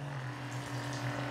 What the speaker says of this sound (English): we're going to push the button here to actuate or turn on the aerator